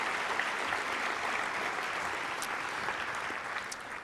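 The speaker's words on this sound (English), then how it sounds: "Please, a round of applause for them." A summit audience gives a round of applause, a dense, sustained wash of many hands clapping at even loudness, heard alone without talk and easing slightly at the end.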